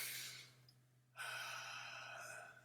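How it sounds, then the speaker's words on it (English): A deep breath taken during a guided pause in a calm spiritual reading, heard as a soft breathy inhale or exhale that breaks off briefly, then a steadier airy exhale that trails through the rest of the moment, close and quiet. "Everybody take a deep breath right there."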